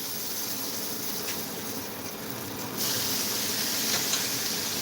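Greens tossed into a hot pan give a steady, close hiss of sizzling and steam, which grows a little louder and rougher partway through, with no voices.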